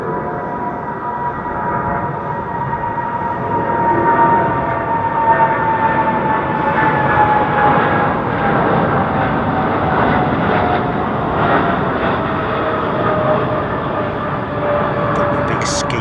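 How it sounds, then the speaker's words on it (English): Steady roar of jet engines at London Heathrow Airport, a continuous loud rumble with whining tones that slowly shift in pitch, voices faintly mixed in. "The sound of these engines"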